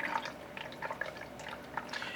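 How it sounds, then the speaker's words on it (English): Water drips and trickles from a wrung-out hot towel during a facial, a faint scatter of small, irregular drops and splashes close by in a quiet room. "So you take your water or your towel, to see how hot this is. You can barely wring this out."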